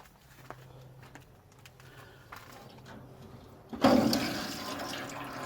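Water starts trickling into a swamp cooler once a valve is opened, a faint quiet stretch giving way to a louder, steady splashing and dribbling flow.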